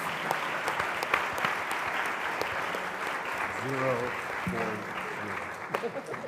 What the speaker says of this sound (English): If you can give everyone a round of applause